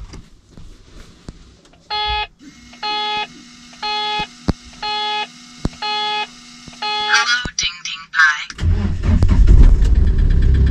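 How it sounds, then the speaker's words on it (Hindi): A car engine turns over and settles into a loud idle after a run of evenly spaced warning beeps, with someone talking nearby. "ट्रैक्टर आई मीन गाड़ी अपनी स्टार्ट हो चुकी है"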